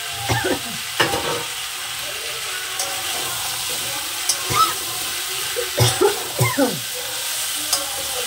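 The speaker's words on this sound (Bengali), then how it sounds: "আবার একটু হালকা নাড়াচাড়া দিয়ে নেব।" A spatula stirs pumpkin pieces and fish head in a pan of curry, giving scraping and clattering strokes over a steady sizzle, with louder stirring bursts near the end.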